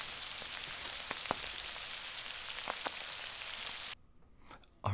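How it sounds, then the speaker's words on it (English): Bacon, garlic, green onion and collard greens sizzle and simmer in a pan, a steady close crackling hiss with scattered pops that cuts off abruptly near the end, leaving near silence before a brief return. "Now I'm just gonna let this simmer a bit"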